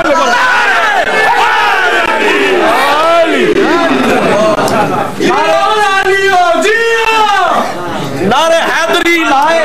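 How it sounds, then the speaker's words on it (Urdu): A large crowd chants a Shia religious slogan, Naara-e-Haidari, loudly in unison at a devotional gathering, repeated rising and falling shouted phrases with a leader's voice between them. "نعرے حیدری لائے"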